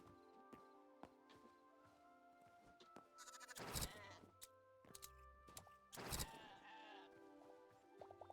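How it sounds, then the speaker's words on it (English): Sheep in the video game Hytale bleat twice, loud and close, among sparse game sound effects of clicks and thuds. "Alright, the sheep are over this hill."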